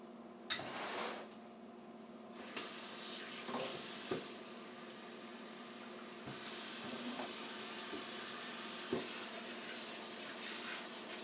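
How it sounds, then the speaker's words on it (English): Cold tap water runs steadily into a pot of frozen green beans being covered for canning in a home kitchen, a continuous near splashing hiss with a few knocks and clunks along the way. "I cover them with cold water"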